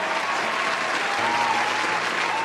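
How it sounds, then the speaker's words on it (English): Dense crowd applause, steady and moderately loud, sustained throughout a short burst with no voices over it. "Give me that applause, Dima"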